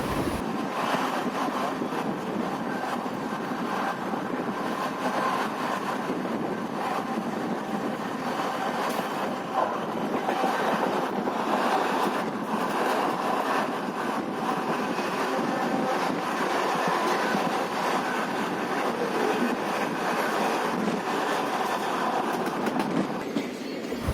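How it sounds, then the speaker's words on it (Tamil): Tirupati–Chennai MEMU express train rolling into Kadambathur station, a steady continuous rumble of wheels and carriages with faint clatter and wind, loud and close throughout with no voices. "இப்போ கடம்புத்தூர் ரயில் நிலையத்துக்கு நம்ம வண்டி வந்துட்டு இருக்கு"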